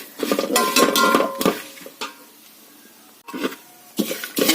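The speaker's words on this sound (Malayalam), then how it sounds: "ഇനി നമുക്ക് തേൻ നിറമാകുന്നിടം വരെ ഇളക്കി കൊടുക്കാം" Spoon scraping and clinking in a pan while grated coconut and curry leaves are stirred for chammanthi podi, a series of irregular close scrapes with short pauses between them.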